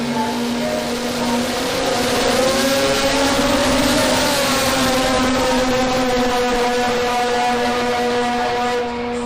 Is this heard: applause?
no